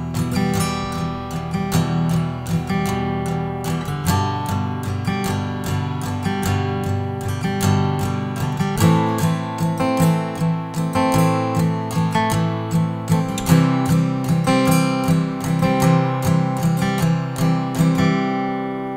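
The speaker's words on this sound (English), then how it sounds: "this is why I add the strumming pattern" An acoustic guitar strums a steady, driving pattern of chords for the chorus of a song, with continuous rhythmic down and up strokes played close and loud throughout.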